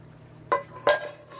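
A metal pan clanks twice in a kitchen while beef is being cooked, two sharp close knocks with a fainter clink after them, with no talking.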